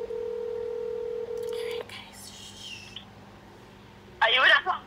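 A phone line gives a steady dial tone, then a few short dialing beeps, followed by quiet line hiss before a nearby voice speaks softly near the end.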